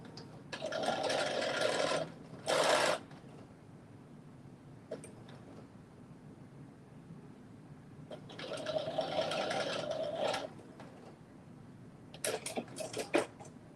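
A sewing machine stitches fabric in two longer runs, each with a short extra burst. Quiet handling noises fill the gaps between them, and a few rapid stitches come at the end.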